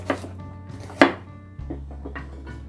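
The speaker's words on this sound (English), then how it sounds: "I'm going to chop this as well. Fresh turmeric." Fresh turmeric root is chopped with a knife on a board in a few distinct, close knocks, one of them loud, over a low background hum.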